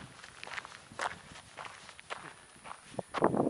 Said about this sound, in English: walking on this dirt with the trekking poles is a whole lot better than that pavement